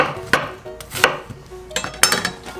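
A knife chopping an onion on a cutting board, a few irregular sharp thuds close by over a couple of seconds, with no talking.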